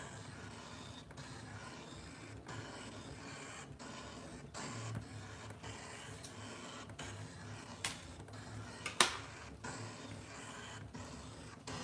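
A ScanNCut cutting machine with auto blade technology cuts scrapbook layout pieces on a desk. Its quiet mechanical whirring and creaking run continuously, marked by periodic soft clicks and a couple of sharper ticks.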